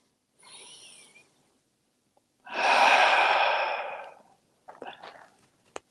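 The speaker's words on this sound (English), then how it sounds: "One or two more breaths here." Slow, deep yoga breaths close to the mic: a soft inhale, then a long, loud exhale, followed by a few short breathy puffs, with no talking.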